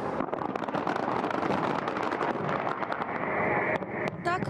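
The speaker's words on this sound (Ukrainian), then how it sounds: "З салюту розпочинається урочисте відкриття 23-х Олімпійських ігор" Fireworks crackle and boom in a dense salute opening the 23rd Winter Olympics ceremony, loud continuous bursts heard at a distance with a voice talking over them.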